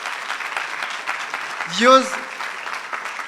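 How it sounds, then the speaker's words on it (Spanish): A church congregation claps during a Spanish-language Christian sermon, a steady patter of applause running beneath a preacher's brief, raised, sung-out exclamation. "Denle un aplauso al Señor"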